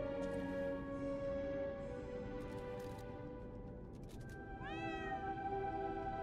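A cat meows in the video game Lies of P, with a few close, clear cries; one rising meow stands out near the end over a soft, steady game ambience, and no one talks.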